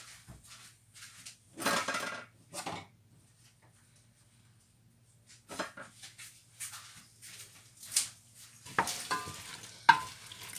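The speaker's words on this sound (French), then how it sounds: "On va vraiment touiller jusqu'à ce que les pommes soient cuites" Apples cooking in water with brown sugar for compote, stirred with a wooden spoon in a pot, making scattered bursts of scraping and bubbling that alternate with quiet gaps.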